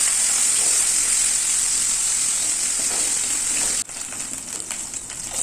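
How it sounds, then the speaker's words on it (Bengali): Prawns frying in hot mustard oil in a kadai, a loud, steady crackling sizzle that eases slightly near the end with some stirring scrapes, no talk. "প্রথমে কড়াইতে তেল গরম করে চিংড়ি মাছগুলোকে ভেজে"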